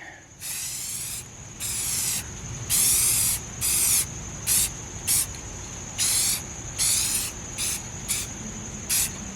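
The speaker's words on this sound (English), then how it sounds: "We have our Rust-Oleum crystal clear enamel. Just want to give this a shot." A Rust-Oleum crystal clear enamel spray can puts a coat on a Range Rover Classic steering part during restoration, giving about ten short, close, loud hissing bursts of uneven length separated by brief pauses, with no talking.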